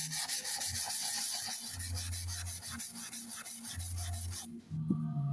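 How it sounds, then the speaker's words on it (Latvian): Car body filler coated with black control paint being hand-sanded, a steady back-and-forth rasping scrape with rhythmic strokes, close and loud, ending with a brief clunk. "Nu, un tagad ņem un slīpē."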